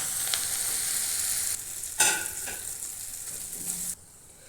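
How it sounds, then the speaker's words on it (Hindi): Spices roasting in a pan for puff samosa filling give off a steady, close sizzle, with a brief burst of stirring noise partway through before it suddenly drops to a faint hiss. "ये मेरा मसाला भुन गया है।"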